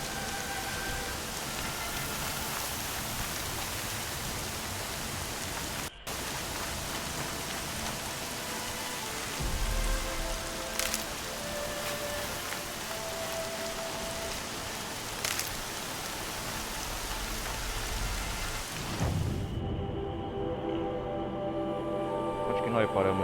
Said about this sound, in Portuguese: Tá chovendo pra caramba, hein?